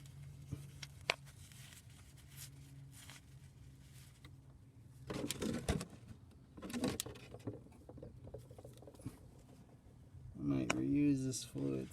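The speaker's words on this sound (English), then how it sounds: "Just gonna drain the fluid." Transmission fluid drains from a Toyota MR2 Spyder with a 1ZZ engine, a soft patter of liquid running and splashing near the microphone, with a few clanks of handling and a short burst of talk near the end.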